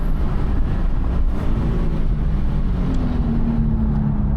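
A race car engine drones loud and steady on track at Mission Raceway Park while a spec Mazda Miata MX-5 passes, with a continuous roar and a rising engine tone toward the end.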